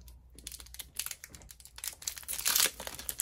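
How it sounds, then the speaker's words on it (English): Someone tears open a Pokémon Cosmic Eclipse Sun and Moon card pack, with close, crisp crinkling and ripping of foil wrapping in quick irregular bursts that grow loudest near the end. "Next pack I'll be opening is this Cosmic Eclipse Sun and Moon pack"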